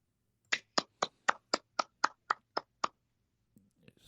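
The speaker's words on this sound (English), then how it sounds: "Well, he was clapping." Ten crisp hand claps ring out in an even, steady rhythm, loud and close in a quiet room, followed by a brief soft rustle.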